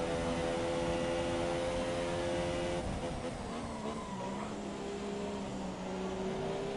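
Formula 1 car engines in the F1 2017 racing game at the Hungarian Grand Prix, a steady high whining drone with tonal engine lines shifting pitch throughout, loud and continuous.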